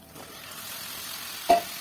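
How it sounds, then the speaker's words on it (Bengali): Fried vegetables go into a pan of cooked spice masala with a gentle steady sizzle and one sharp clatter as they drop in. "এর মধ্যে দিয়ে দেবো এখন ভাজা সবজিগুলো,"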